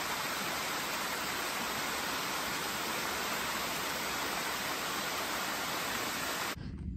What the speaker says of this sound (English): The path has been kind of following this waterfall.